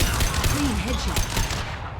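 Rapid bursts of gunfire from Mass Effect Legendary Edition crackle in a dense, loud volley lasting about two seconds, with no talk over it.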